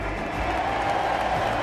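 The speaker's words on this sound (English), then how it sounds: "give yourselves a round of applause for being here with us today" Applause and cheering from a packed audience at Ashe Stadium fill the air as a dense, steady roar that holds at an even level throughout, with no single clap standing out from the wash of crowd noise.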